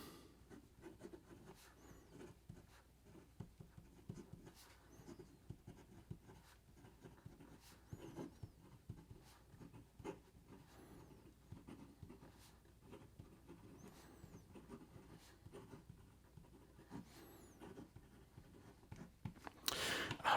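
A fountain pen with a fine nib scratches across paper in short, soft strokes of quiet rubbing, close and faint, with brief pauses between words and a louder scuff at the end.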